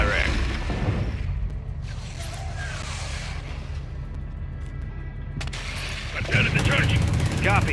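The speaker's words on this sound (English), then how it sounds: "we're taking RPG fire from the east" Heavy gunfire and explosive blasts from Call of Duty: Modern Warfare II, mission Hardpoint, with RPG fire in a firefight: dense, loud rumbling shots and booms that swell near the end, with radio-style voices talking over the battle.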